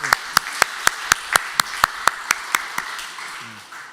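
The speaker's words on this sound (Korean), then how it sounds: "한번 우리 박수로 다시 한번 환영해 주시면 고맙겠습니다" A congregation at a Sunday church service claps in welcome, the sharp claps landing in a fairly even, steady rhythm for about four seconds against a light room murmur. Near the end the clapping thins out under a faint voice.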